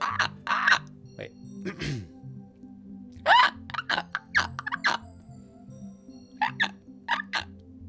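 A person imitates a seagull with a series of short, sharp, squawking calls in bursts, close and fairly loud, with brief gaps of quiet between them.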